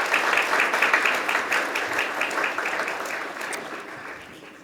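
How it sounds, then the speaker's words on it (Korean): An audience at a public hearing on judicial reform applauds, a dense patter of many hands that swells at first and then gradually thins and fades, with no speech over it. "큰 박수 부탁드립니다"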